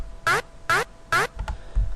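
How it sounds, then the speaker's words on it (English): Laser sound effect in a dubstep track: three short, evenly spaced zapping bursts with sweeping pitch, loud and close, followed by a few faint low thumps. "Also I added this laser effect in here that goes like this"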